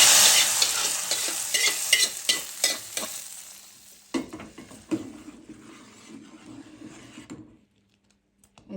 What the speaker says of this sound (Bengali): এখন দিয়ে দিব ডালে বাগার